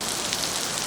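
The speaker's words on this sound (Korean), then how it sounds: "지금 창밖에 비가 엄청나게 내리고 있음을 밝힙니다." Heavy rain falls outside a window, a dense, steady hiss heard from indoors, loud and even throughout with no voices over it.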